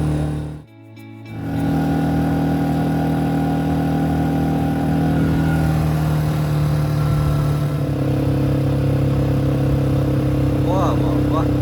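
A motorbike is ridden along the seashore at Mandarmani, its steady mid-pitched engine drone running loud and close after a brief dip at the start, with people talking over it.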